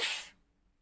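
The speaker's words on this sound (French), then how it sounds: "Oula, je vais éternuer, excusez-moi." A woman sneezes once, a short breathy burst that cuts off into near silence, heard close up indoors while a baby clothing parcel is being unpacked.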